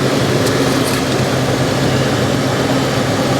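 A Kia Forte's engine runs steadily, a loud, even low hum with no speech over it.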